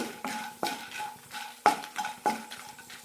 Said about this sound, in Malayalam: മുളകിട്ട ശേഷം 1 മിനിറ്റ് നന്നായി വഴറ്റി കൊടുത്താൽ മതി